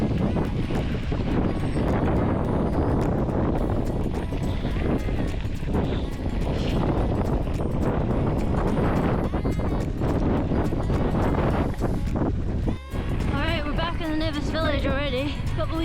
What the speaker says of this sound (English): now we're into a block headwind